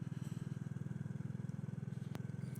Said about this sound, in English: It's got a lovely sound to this bike. Really nice sound. Just throbbing away underneath you.